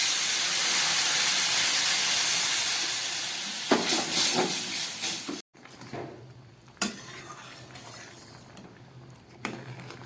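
A pot of curry with crab and potatoes simmering in spice-fried gravy, steady hiss of steam and bubbling throughout, with a few sharp clinks and stirring knocks against the pot later on.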